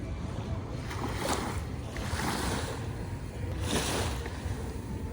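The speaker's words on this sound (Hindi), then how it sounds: "लहरों की आवाज़ सुनोगे" Ocean waves roll in at the Dubai waterfront, rising and falling in broad washes of surf mixed with wind rumble, continuous and fairly close, without talk.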